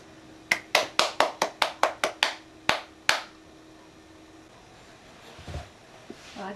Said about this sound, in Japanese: 手でパチパチパチできるよね